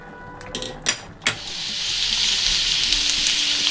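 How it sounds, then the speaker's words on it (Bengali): Steady sizzling of squash and potatoes frying in a pan with cumin seeds, with a few sharp clatters of utensils near the start before the hiss settles into a continuous crackle. "কোয়াশ আর আলু এই যে ভালো করে ভাজা হয়ে গেছে"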